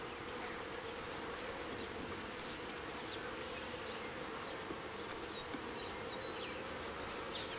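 Honey bees buzzing steadily in a one-month-old hive opened for inspection, a dense continuous hum close by with occasional individual bees passing, no talk.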